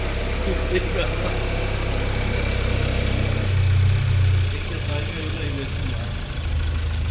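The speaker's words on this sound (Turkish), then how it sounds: "Marşa bastık arkadaşlar. Aracımız çalışıyor." A Seat Leon FR with a 1.5 TSI petrol engine runs at a steady idle with a low, even rumble and slight vibration, while someone talks over it.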